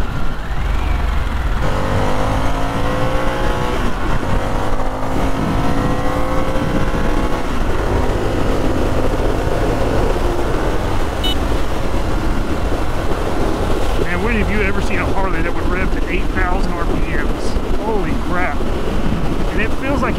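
A 2022 Harley-Davidson Sportster S being ridden with its quiet stock exhaust, a steady engine drone under heavy wind rush across the microphone, with shifting revs throughout.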